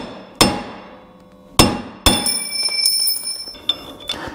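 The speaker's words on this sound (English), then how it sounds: "I'm gonna use a punch like this and see if I can drive this out." A hammer strikes a punch to drive out a car wheel stud, three hard metallic clanks spaced apart followed by ringing, bell-like resonance and a couple of lighter taps, close and loud.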